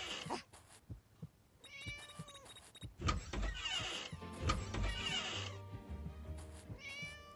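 A cat in the video game Scary Teacher 3D meows several times in clear, rising and falling calls, mixed with game clatter and mechanical sounds.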